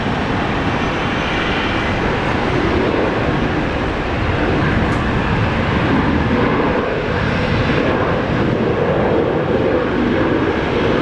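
An airliner takes off at Brisbane airport, its jet engines producing a loud, continuous roar that stays broad and steady for the whole stretch, with no voices over it.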